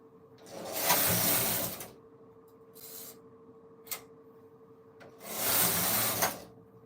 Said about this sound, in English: I think knitting machine make your knitting process very easy